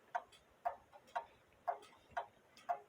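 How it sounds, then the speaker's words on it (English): Japanese Seikosha time-and-strike wall clock with a pendulum, ticking in a steady, slightly uneven beat, six soft close ticks alone in a quiet room. "I can watch the pendulum leader wire bounce off of it, so I can put the clock in beat."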